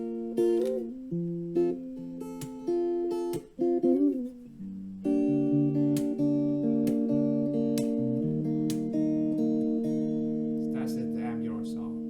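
Guitar notes glide smoothly between pitches using slide technique, several plucked phrases from a song with sliding bends followed by sustained strummed chords ringing out near the microphone.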